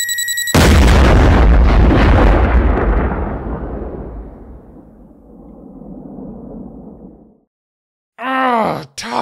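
An explosion blows up a basement: a loud, sudden boom followed by a long rumbling decay over several seconds, then a brief voice-like groan near the end.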